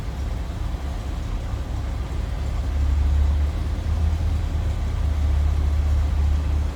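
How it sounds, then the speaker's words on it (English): A 1931 Chevrolet dually flatbed truck idles steadily nearby, a low, even engine rumble that grows a little fuller partway through, with no talking. "It's a smooth running old truck."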